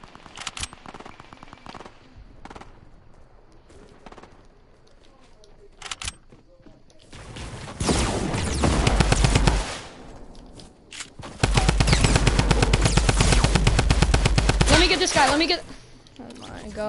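Video-game gunfire in two long, loud automatic bursts, with scattered lighter shots and quiet moments between them.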